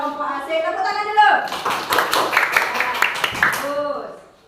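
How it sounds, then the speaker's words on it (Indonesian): A classroom group claps together, a short burst of brisk hand claps rising after a spoken line, with talk heard before and after the clapping. "tepuk tangan dulu"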